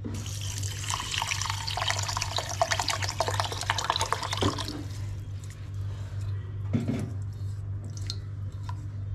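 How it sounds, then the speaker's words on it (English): Running water splashes and pours over rice being washed for several seconds, then cuts off, leaving a low hum and a few faint clinks and drips. "So we put water one more time."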